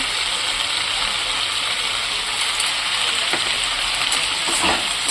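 Vegetables stir-frying with salt and turmeric in a pan, a loud, constant sizzle with occasional scrapes and clicks of the spatula, heard alone with no voices.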